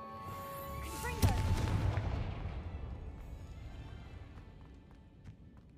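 A Confringo spell blast in a video game: a single loud explosive boom about a second in, ringing out and slowly fading into a low rumble, with faint game sounds after.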